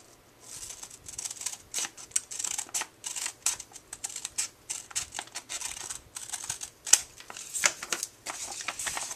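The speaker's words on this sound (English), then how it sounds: "I'm just going to trim off the excess over here" Scissors trim excess paper from a handmade card envelope, a steady run of close, dry snips and paper rustles.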